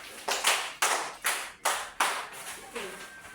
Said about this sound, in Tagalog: Ibigyan natin ng 5 palakpak ang pangkat 2.